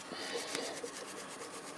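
A toothbrush scrubs the brakes of a Suzuki GSX-R 600 motorcycle, giving quiet, rapid back-and-forth rasping strokes in a steady rhythm, close up and faint.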